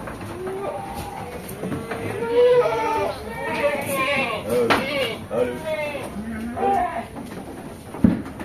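Goats, including female goats, bleat at a goat market, several loud wavering calls rising over a noisy crowd while people talk throughout.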